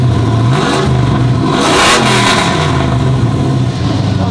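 A Chevrolet Intimidator SS clone pickup with a Corsa exhaust revs hard and loud, its engine note rising and falling across several throttle blips with a steady rumbling exhaust underneath.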